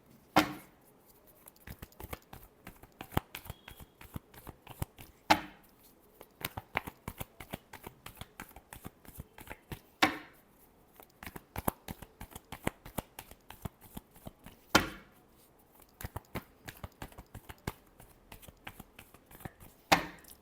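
Tarot cards being shuffled by hand, with quick crisp riffling flicks repeated in bursts roughly every five seconds, close and fairly quiet with no talking.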